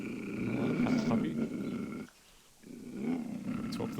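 A puppy in the adventure game Wrath of the Gods growls low and rumbling in two bursts split by a short gap, close and steady, with a voice talking over the sound.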